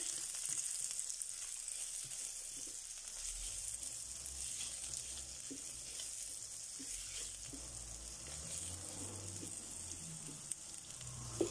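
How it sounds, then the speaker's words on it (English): Onions sauté in a soup pot, giving a quiet, steady sizzle with a soft hiss throughout and occasional faint stirring knocks, heard close and alone. "the first thing you're going to do is saute your onions"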